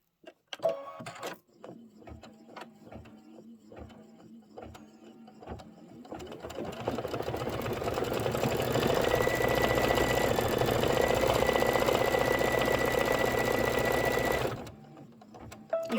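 An embroidery sewing machine stitches a cherry stem for a banana split quilt block. It opens with sparse soft clicks, then settles into a steady, rapid mechanical whir that runs for several seconds before stopping abruptly.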